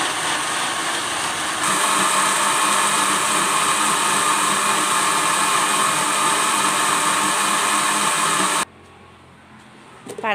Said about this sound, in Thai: ปั่นให้ละเอียดนะคะแล้วก็นี่ทำแบบนี้จนหมดนะคะ